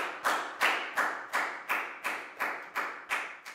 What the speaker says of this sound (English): And a big round of applause for everybody for doing such a great job.